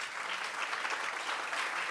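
A church congregation applauds, producing a dense, continuous wash of clapping at moderate loudness for a couple of seconds with no break.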